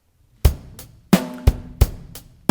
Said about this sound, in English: If we listen to a simple pop rock drum beat,